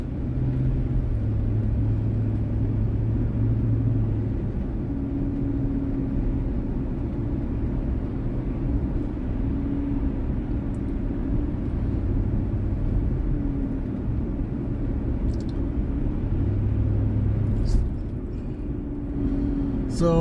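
Steady low engine drone and road rumble from a car driving in San Gabriel, continuous and fairly loud throughout, with a faint voice now and then under the noise.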